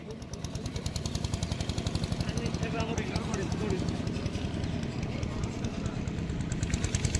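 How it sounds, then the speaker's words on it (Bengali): A boat's engine starts up and keeps running with a steady, rapid chugging pulse, close and loud, with indistinct voices underneath. "ওই দেখো নৌকা স্টার্ট হয়েছে"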